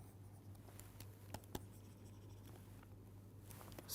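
Pen or chalk writing during a maths lecture on quotient rings, soft scratching strokes in short irregular bursts with a couple of sharper taps, quiet and close over a low steady hum, with no speech.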